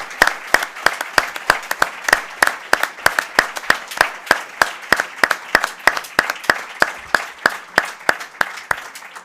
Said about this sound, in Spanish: os pediría a todos un fortísimo aplauso para ella